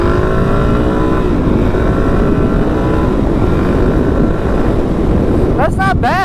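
A 2024 Suzuki DRZ 400, a single-cylinder motorcycle of around 30 horsepower on a first ride, pulls hard under acceleration with a loud, continuous engine note buffeted by wind, rising briefly in pitch near the end.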